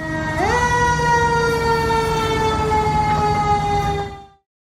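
A fire truck siren swoops upward, then holds a loud, steady wail that slowly sinks in pitch over a rumbling engine, then fades out.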